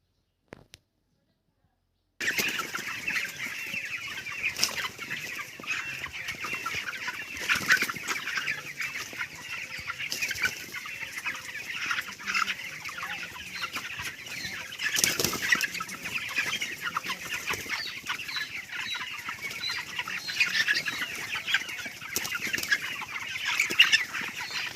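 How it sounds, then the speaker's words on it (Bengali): Many chickens clucking in a long poultry shed, a dense, continuous chorus of clucks and squawks with occasional wing flaps, fairly close, after a brief silent start. "মুরগি কটা নাড়িয়ে দেখাচ্ছি"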